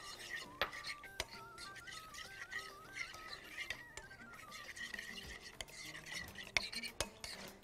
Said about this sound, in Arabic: انا اقلب دي بس عشان ايه، فجاه اصلها بتتحمر وممكن تتحرق فجاه، فنقلبها كده كل شويه